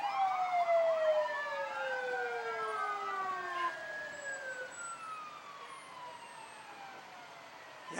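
A 1981 Hahn fire truck, engine number 3, sounds its siren in a fall foliage festival parade, a loud wailing tone that sweeps down and fades slightly over eight seconds, with no talk.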